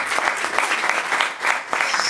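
Audience applause at the end of a conference talk, steady dense clapping from a seated crowd in a hall, fairly close and continuous with no voices over it.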